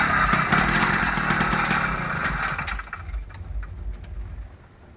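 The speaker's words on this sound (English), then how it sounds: "Now I'll move over to the Chinese engine. It's a 49cc, sort of like a pocket rocket engine." Chinese 49cc pocket rocket engine cold starting, a loud buzzy rattling run for about three seconds that then dies away to a fainter sputter, close up with no talking.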